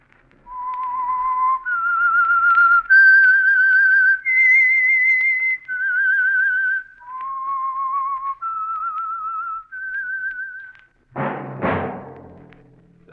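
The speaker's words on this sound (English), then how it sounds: "That whistle is your signal for the Signal Oil program, The Whistler." A whistled theme melody for The Whistler radio program, a 1948 broadcast sponsored by Signal Oil, rings out as a clear, close series of held sustained notes stepping up and down, followed by a brief low burst at the end.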